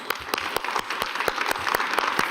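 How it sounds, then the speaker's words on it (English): An audience claps for a panel at the World Economic Forum in a brisk, steady round of applause, individual claps sharp and close, with no talking over it. "Give them a big applause."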